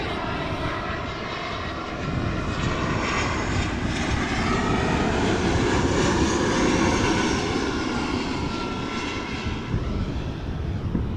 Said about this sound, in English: As an EasyJet A320 passed by behind me.